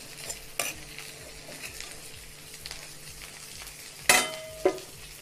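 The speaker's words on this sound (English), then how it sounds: "the brinjal is getting toasted" Brinjal toasting in oil in a pan for an ennai kathirikai masala, a steady low sizzle with occasional stirring scrapes and a couple of sharper utensil clinks near the end.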